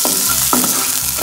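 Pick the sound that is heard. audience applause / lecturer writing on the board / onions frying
onions frying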